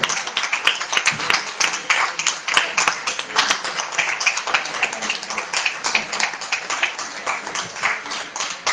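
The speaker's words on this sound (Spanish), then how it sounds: "voy a pediros ese aplauso final para José María Merino y Juan Pedro Aparicio." Closing applause at a book fair event for authors José María Merino and Juan Pedro Aparicio: a modest audience claps steadily, with distinct individual hand claps, sustained throughout without talk.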